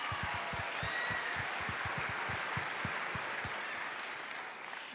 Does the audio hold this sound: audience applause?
yes